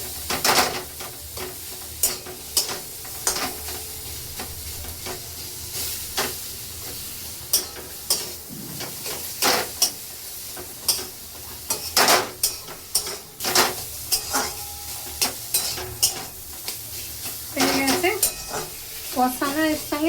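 Bitter gourd and spices are stir-fried in a pan, a steady close sizzle broken by frequent sharp scraping and clinking of a spatula against the pan, with no talk.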